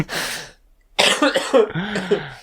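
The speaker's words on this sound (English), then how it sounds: "coughing his guts up" A rough cough bursts out, then after a pause comes a longer run of hacking, rasping coughs up close.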